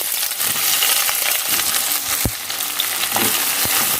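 Three large onions frying in mustard oil, crackling and sizzling steadily with scattered sharp clicks and knocks of a utensil against the pan.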